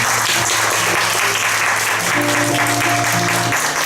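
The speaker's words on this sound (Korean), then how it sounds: "우리들 한 박수 한번 치렀으면 좋겠습니다" A church congregation claps together during an afternoon worship service. The applause is loud and steady, with sustained dense clapping for several seconds and music tones under it.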